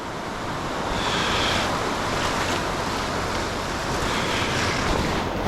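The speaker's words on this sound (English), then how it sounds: "this is my first time ever launching a kayak off the surf" Ocean surf crashes and rolls continuously during a kayak launch off the beach, a loud broadband wash of breaking waves mixed with wind buffeting the microphone, with no voices.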